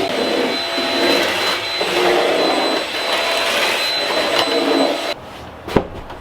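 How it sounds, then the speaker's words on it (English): A vacuum cleaner runs on the floor of a van being fitted out with flooring, a loud steady roaring whine close by that cuts off near the end, leaving a short knock. "right now, we're just vacuuming, cleaning it up"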